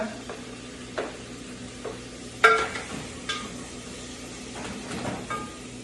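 Tomatoes go into a pan of chicken curry and give a soft, continuous sizzle. Occasional sharper clinks and scrapes of utensils against the pan come through at low volume.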